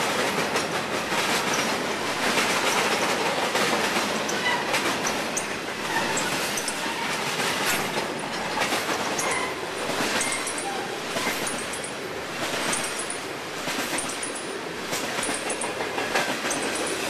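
A Norfolk Southern freight train rolls past, including mixed grain cars, with steady rhythmic clickety-clack of wheels over rail joints. The noise is continuous and fairly close, with occasional faint squeals.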